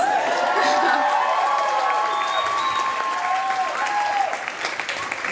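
Audience at a standup comedy show applauding and cheering loudly, a dense sustained wash of clapping with whoops and voices, easing slightly near the end.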